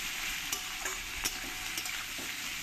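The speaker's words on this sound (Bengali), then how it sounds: "পেঁয়াজটাকে আমি একটু ভালো করে লাল লাল করে ভেজে নেব।" Onions frying in a pan for mutton kosha, a steady, close sizzle with a few sharp stirring scrapes and clicks, no voices.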